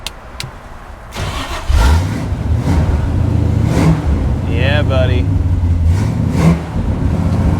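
A 1986 Jeep CJ7 with a new coil and spark plugs cranks, catches and settles into a loud, close idle, then is revved sharply a couple of times, with someone speaking briefly over it.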